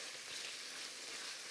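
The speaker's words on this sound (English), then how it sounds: "So I've got this cast iron brazier. It's coming up to temperature, and we are going to fry off the ground beef" Ground beef frying in a hot cast iron brazier, giving a steady, faint, hissing sizzle with no other sounds or talk.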